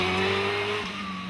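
A British Hillclimb Championship race car on a smooth 2008 hillclimb run: a loud, steady engine drone held close, easing slightly lower in pitch near the end of a brief pass.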